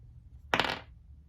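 Dice from a D&D Essentials Kit drop onto a hard surface, giving one short, bright cluster of clattering impacts that fades quickly in a quiet room.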